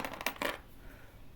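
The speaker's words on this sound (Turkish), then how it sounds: "Anahtarla oyna biraz." Metal keys jingling and clinking as a child plays with them, a few quick bright rattles at the start that stop abruptly and leave near silence, close to the mic.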